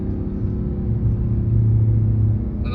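A deep, rumbling Hellcat car engine drones steadily, its low tone shifting as the revs drop and rise again through a downshift, heard from inside the vehicle.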